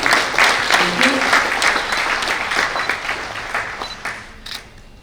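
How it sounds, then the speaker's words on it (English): An audience at an award ceremony breaks into applause, loud and steady at first and then thinning gradually over a few seconds, with a voice faintly over the clapping. "May we have a round of applause, please."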